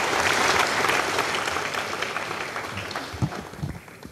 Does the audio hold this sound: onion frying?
no